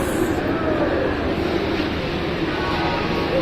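Himgiri Express train standing at a platform of a station on the Howrah to Jammu route, heard as a continuous low rumble and hum with a wash of ambient noise, steady throughout and without speech.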